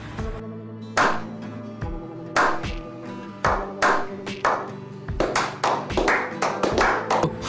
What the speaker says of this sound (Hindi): ताली हो जाए इसके लिए।